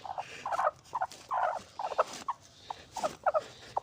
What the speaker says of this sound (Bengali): আমার মুরগিটা কিন্তু কুঁচে দেখেন ডাক দিচ্ছে দেখেন